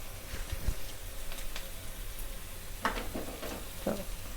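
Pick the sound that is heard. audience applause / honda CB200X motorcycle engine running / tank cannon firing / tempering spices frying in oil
tempering spices frying in oil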